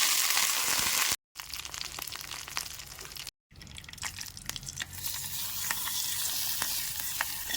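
Curry leaves are added to hot oil with mustard seeds and dried red chillies to temper an Uppumanga curry, crackling and spitting in a steady close sizzle with sharp pops, broken by two short silences.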